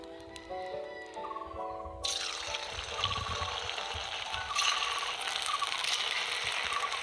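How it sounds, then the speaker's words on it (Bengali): Pieces of leftover-rice kurkure fry in hot oil with a loud, dense, continuous sizzle that jumps up sharply as more pieces are added, over faint background tones and no talking. "আবার আমি দেবো তেলের মধ্যে এইভাবে ভেজে নেব"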